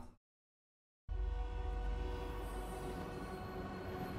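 Train rumbling in a Fortnite trailer, a loud sustained roar that bursts in after a brief silence, with a horn-like tone layered over heavy low rumble.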